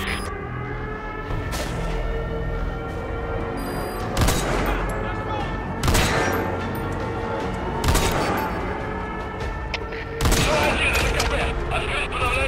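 Gunfire in Metal Gear Solid V rings out as repeated heavy volleys, loud booming bursts every couple of seconds over a continuous rumbling battlefield bed with radio-like tones.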